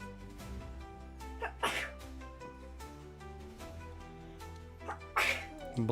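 Two sharp sneezes burst out against steady background music, the first around the middle and a second louder one near the end, followed by a faint third catch.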